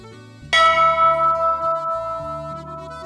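A railway station bell, once used to announce arriving trains, struck once with a bright clang that rings on and slowly decays in pulsing waves, loud and alone.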